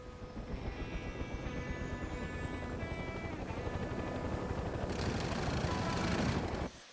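A helicopter in the video game Mercenaries 2 drones steadily with a rotor thump and a rising whine, close and constant, then cuts off abruptly near the end.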